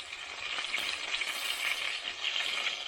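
Chicken frying in hot sunflower oil on a small cooker outdoors at a church gathering, a steady close crackling sizzle that holds bright and even throughout, with no voices.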